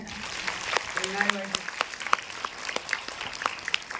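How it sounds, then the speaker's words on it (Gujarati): An audience in a town hall claps together in a steady patter of applause, while a voice briefly speaks over it. "તાળી થઈ જાય બધા માટે."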